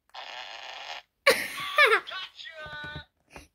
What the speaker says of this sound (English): It's gonna make a fart noise.